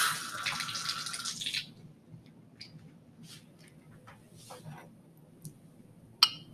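A container is rinsed out under running water during a chemistry classroom demonstration. A steady hiss of flowing water lasts about a second and a half, then falls quiet except for a few faint clicks and small knocks.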